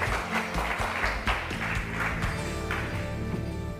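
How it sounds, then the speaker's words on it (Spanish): A television studio audience applauds as María José arrives with her father on a talk show: dense, continuous clapping from many people, full and sustained throughout, with a low hum of music or room noise beneath. "Un aplauso para María José"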